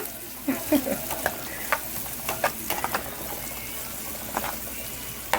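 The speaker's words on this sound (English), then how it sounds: "let that just fry up a bit and get coated nicely with the buttery flavor there" Chicken fries in butter and oil in a pan for Trinidadian stewed chicken, a steady sizzle broken by scattered clinks and stirring scrapes, close and fairly quiet with no talking.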